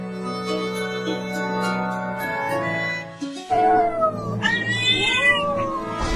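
Close, loud cat meowing: drawn-out, wavering cries that rise and fall in pitch, coming in a few insistent calls after a steady tonal background drops away.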